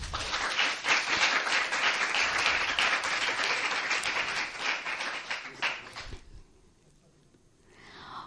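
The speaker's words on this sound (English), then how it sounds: "So let's welcome her with a big," Audience applause at a National Youth Day event, a dense sustained clapping crowd lasting about six seconds before cutting off abruptly into near-quiet.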